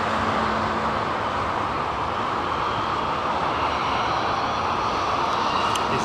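A WestJet airliner taxis at London Heathrow Airport, its jet engines giving a steady, broad roar that holds at a constant level throughout, with no voices.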